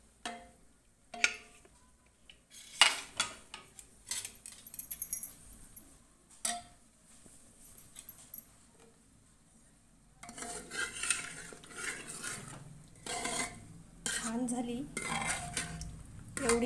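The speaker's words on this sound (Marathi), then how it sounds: "तर आता आपण कुकर उघडून बघूयात कितपत शिजली आहे वजडी" A pressure cooker holding cooked vajadi (goat tripe) curry is opened with scattered metallic clinks and clatters. A spoon then stirs and scrapes steadily against the pot, close and fairly soft, with no talk.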